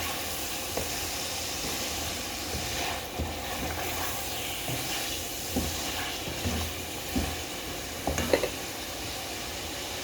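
Green banana pieces fry in a pan with spices, a soft continuous sizzle broken by scattered scraping clicks as the spoon stirs and turns them.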